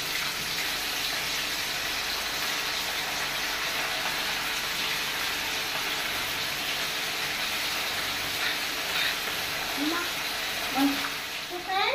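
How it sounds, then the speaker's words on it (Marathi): Prawns fry in hot oil over a medium gas flame for chilli prawns, giving a steady, close, even sizzle that runs throughout, with a few faint voices underneath. "एक एक करून हांव सगळें घालून फ्राय करता"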